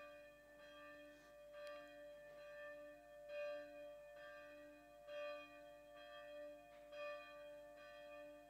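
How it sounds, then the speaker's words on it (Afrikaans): Church bell at a Pentecost Thursday service at NG Weltevreden ringing in slow repeated strokes about every second and a half, each strike leaving a long humming tone, heard faintly from some distance with no talk. "Die klok net gou klaar lui."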